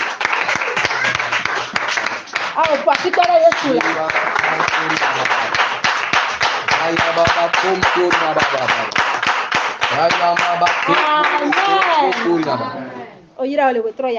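An audience at an evening prayer camp claps and acclaims steadily and loudly throughout. A preacher's amplified voice calls out over the clapping.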